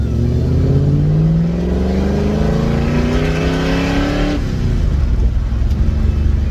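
A car engine with no oil pressure revs hard under full load, its pitch climbing steadily for several seconds before dropping off abruptly to a lower rumble.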